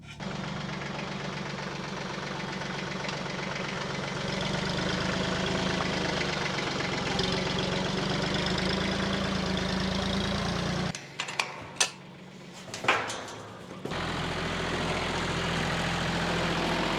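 A tractor fitted with a hay spear idles with a steady, low, knocking rumble, close and constant. Near the end the engine cuts out for a few seconds, with scattered clunks, then resumes. There is no talk.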